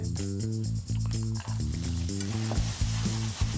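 Onions and chili frying in a pan give a steady, dense sizzle that continues throughout, with music playing underneath.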